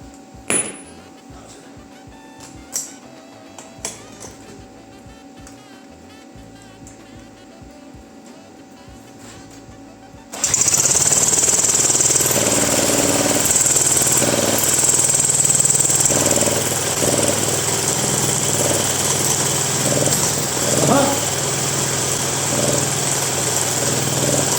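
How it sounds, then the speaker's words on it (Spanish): An impact gun whirs loudly and steadily as it spins the flywheel of a 1942 motorized bicycle engine, starting abruptly after a quiet stretch of faint clicks and continuing as a dense, sustained mechanical buzz. "para poderlo comandar aquí con la pistola de impacto y girarlo muchísimo más rápido"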